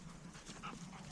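Working Labrador and spaniel dogs breathe hard in short, quick pants at close range, soft and steady with faint whimpering breaths.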